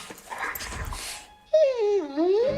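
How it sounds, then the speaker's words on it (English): A dog in a Dog Chow radio ad whimpers and yips, a close, high wavering whine that bends down and back up, after a brief stretch of muffled broadcast sound. "To some, this might sound like a typical family dog."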